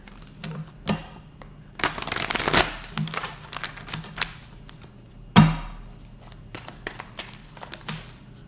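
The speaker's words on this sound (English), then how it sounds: "Last shuffle, what's happening for my Aries in their love life" Tarot cards are shuffled in scattered bursts of soft slapping and riffling, fairly quiet, with one sharper thump partway through.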